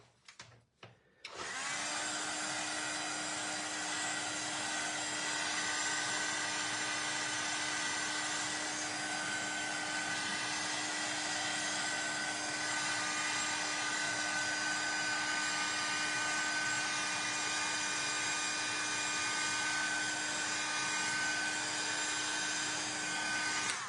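A hair dryer blows steadily on wet paint, a loud continuous whirring hiss with a fixed motor hum that starts abruptly after a click and runs unbroken to the end.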